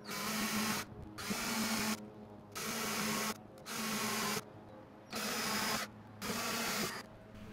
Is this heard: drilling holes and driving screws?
yes